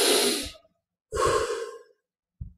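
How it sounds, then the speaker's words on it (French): Two long, audible breaths out through the mouth, each a soft whooshing sigh, close and alone, followed by the start of another breath. "Expire par la bouche."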